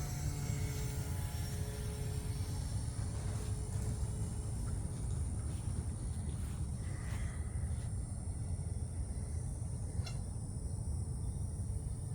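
A small RC airplane drones steadily at a distance, its faint motor whine sitting over a constant low outdoor rumble, with no talking.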